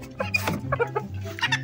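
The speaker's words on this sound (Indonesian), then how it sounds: "aku mau ngelepasin si ayam kate ini" A bantam chicken gives a few short, quick clucks in bursts, close by, with faint background noise in a backyard coop.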